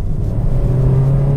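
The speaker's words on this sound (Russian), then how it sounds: "Мы едем 40, я нажимаю газ в пол." Kia car engine under full throttle acceleration from about 40 km/h, heard from inside the cabin as a loud, steady low rumble with a rising drone and no talking.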